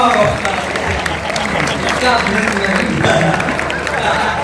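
An audience claps steadily throughout at a Hindi spoken-word gathering, a sustained wash of applause with some crowd murmur mixed in.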